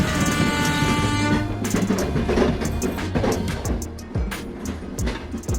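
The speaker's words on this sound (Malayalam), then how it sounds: "ഒരേ ഒരു ട്രെയിനായ അമൃത എക്സ്പ്രസ് ഇന്ത്യയിലെ ആദ്യത്തെ കടൽപ്പാലമായ പാമ്പൻ പാലത്തിന് മുകളിലൂടെ പോകുന്ന അതിമനോഹര കാഴ്ച" An Amrita Express passenger train crossing the Pamban sea bridge near Rameswaram rumbles loudly, its horn sounding early on, followed by rhythmic wheel clatter over the rails as the cars roll by.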